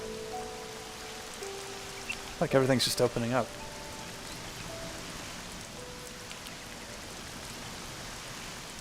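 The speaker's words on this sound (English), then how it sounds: "This rainy day." Rain falls steadily outdoors among rocks, a soft continuous hiss that runs the whole time, with a brief spoken remark partway through.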